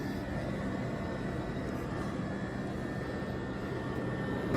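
Jeep Wrangler 4xe with its AC compressor and cooling fans running: a steady, loud broadband whir and hum with a faint tonal whine, continuous and unchanging throughout.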